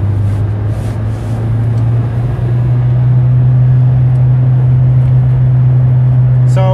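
Diesel car engine held at a steady high idle of around 3000 rpm to clear a clogged DPF, a loud continuous drone with a strong low hum that rises slightly partway through and stays constant.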